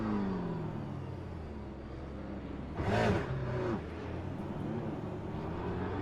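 An Aston Martin race car hums along on a formation lap at Circuit of the Americas in the Le Mans Ultimate game, its engine droning steadily, with one brief rev swelling louder in the middle.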